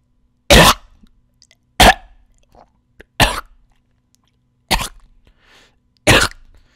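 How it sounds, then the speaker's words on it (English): Five separate chesty coughs, each a loud harsh burst followed by a wet, rattling tail, spaced roughly a second apart with quiet gaps between. "Next up is some coughing with phlegm."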